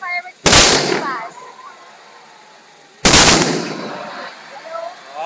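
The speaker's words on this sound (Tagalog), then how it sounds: "May fireworks na labas." Fireworks from a December display at SM Fairview burst outside in two loud, sharp booms about two and a half seconds apart, each trailing off into crackling echoes, while a person talks faintly nearby.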